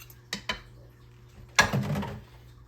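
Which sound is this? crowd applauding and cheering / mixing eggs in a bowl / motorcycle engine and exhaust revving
mixing eggs in a bowl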